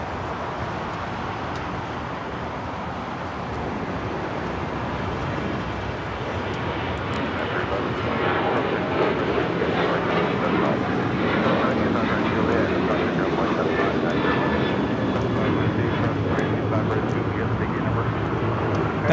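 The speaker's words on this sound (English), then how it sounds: "613 taking off to Chicago on the 737-800" American Airlines Boeing 737-800 taking off at Los Angeles LAX, a loud sustained jet engine roar that swells and holds steady, with a commentator talking over it.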